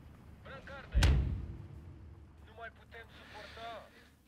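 One deep, booming artillery shot in Steel Division 2 stands out, close and loud, with a long rumbling decay beneath someone speaking quietly before and after it.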